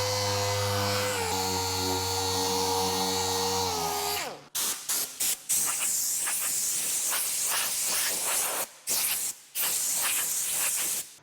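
A sprayer hisses out SEM World Class DTM epoxy primer in short repeated bursts after a tool's motor winds down, the close airy spray broken by brief pauses.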